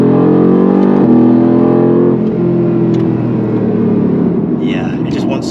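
A 2021 Mercedes-AMG GT R accelerates hard through short-geared upshifts, a loud close engine roar with a sharp shift break about a second in, then a sustained rumble as speed builds.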